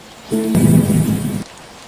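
A short, loud burst of heavy rain with a rumble of thunder during a downpour in Lagos, lasting about a second before cutting away.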